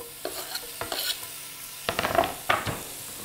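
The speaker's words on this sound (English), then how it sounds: "we're going to brown the bacon and use the spatula to break it up as it cooks" Bacon browns in a skillet preheated to 325 degrees with a glug of olive oil, sizzling softly under close scraping and stirring taps from a wooden spatula breaking it up.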